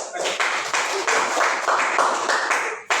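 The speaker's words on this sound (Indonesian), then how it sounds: "Tepuk tangan." Children in a third-grade classroom clapping together in short rhythmic bursts on cue, several quick patterned claps close by, a brief gap just before the end.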